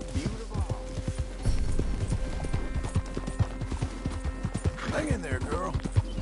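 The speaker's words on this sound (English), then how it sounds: "That's a real beautiful horse." Horse walking with close, steady clip-clopping hooves in an even rhythm, a soft whinny partway through, and a person talking over the hoofbeats.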